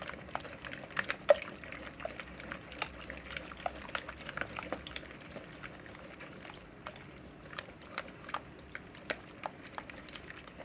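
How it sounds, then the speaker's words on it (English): Eggs and liquid ingredients for a coconut cake made from yellow cake mix are whisked in a bowl, giving quiet, irregular wet clicks and sloshes at close range with no talking. "So I'm gonna go ahead and mix these eggs up."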